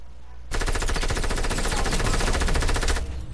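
Rapid, sustained submachine-gun fire in a video game, a loud continuous burst of closely spaced shots lasting about two and a half seconds after a brief quiet start, with no talking.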